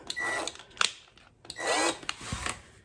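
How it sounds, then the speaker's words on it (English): Short bursts of a power drill whirring against a kitchen cabinet hinge screw, stopping and starting in a few uneven pulses with brief scraping in between. "So I'll just take my drill"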